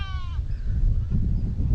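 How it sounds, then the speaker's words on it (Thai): Goats turned loose to graze on a grassy reservoir bank bleat in the distance. A short wavering cry rises over strong, steady wind rumble, with fainter calls trailing behind. "นั่นไงฮะ เสียงแพะ"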